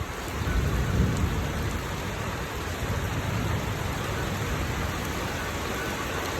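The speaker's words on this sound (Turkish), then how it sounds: "Sadece yağmur yağıyor. Yaz yağmuru." Steady summer rain falls on a street in Riga, a dense, even hiss of drops on surfaces throughout, with a low rumble near the start and no one talking.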